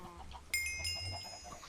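A chicken clucks in a Minecraft farm pen, a few short synthetic clucks over low ambient hum, moderately close and without any talk.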